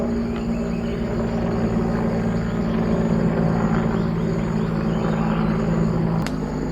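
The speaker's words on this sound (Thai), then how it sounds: "ตอนนี้มีเฮลิคอปเตอร์หนึ่งลำนะครับ ออยู่เหนือสีแซของเขานะครับผม" A helicopter flies overhead above a forest camp, giving a steady low rotor drone and rumble that holds throughout at moderate loudness, with no talking.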